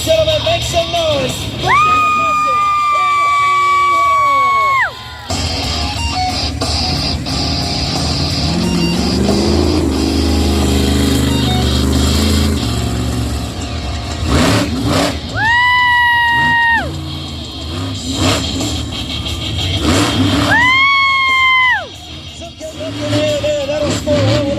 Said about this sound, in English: As you can see, these trucks are extremely loud.